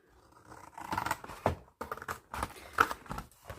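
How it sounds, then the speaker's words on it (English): Scissors cutting open a junk journal cover: a run of close, crisp snips and scraping cuts with short pauses between strokes, quiet and without talk. "So you're just going to cut that open."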